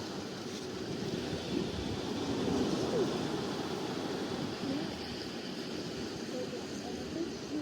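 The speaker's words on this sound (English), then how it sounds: "We're just tuning in with the sound of the ocean" Ocean waves wash in a steady, broad roar with a gentle swell midway, heard alone at moderate level.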